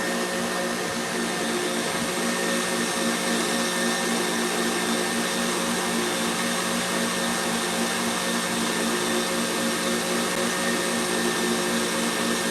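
A stand mixer whisk whips macaron batter with a loud, constant motor whine and whir that runs unbroken, close up, with no talking.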